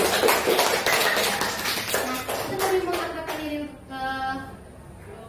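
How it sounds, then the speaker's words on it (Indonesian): A counseling group claps hands together, a burst of dense, close clapping that thins out toward the end, with a voice speaking as it fades. "Boleh tepuk tangan dulu untuk kita semua."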